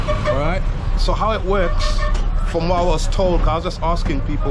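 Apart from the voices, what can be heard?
inside a moving local bus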